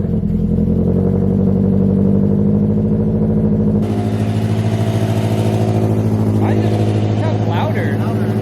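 A supercharged Toyota FRS engine runs steadily and loud, idling with a slight rev and an abrupt shift in tone partway through, a voice speaking over it.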